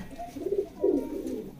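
A male pigeon of the Tedhi breed line gives a short, soft double coo, close by and low-pitched, with no other sounds around it.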